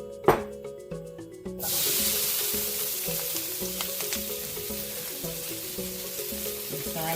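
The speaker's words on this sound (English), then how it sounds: "I'm going to add a little more oil because it's time to fry the rice" After a short clink, rice hits hot sesame oil in a pan and bursts into a loud, steady sizzle that settles into a continuous frying hiss, with faint background music and no speech.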